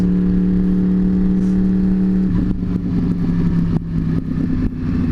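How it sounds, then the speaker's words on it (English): A Yamaha R1 cross-plane sport motorcycle with an aftermarket exhaust idles with a steady throbbing note, then gets blipped in sharp, loud revs that crackle and fall back. "There's no better sound than a cross-plane R1 with the toast exhaust."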